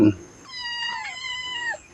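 A cat gives a single drawn-out meow, clear and close, rising and bending in pitch, just after a brief thump.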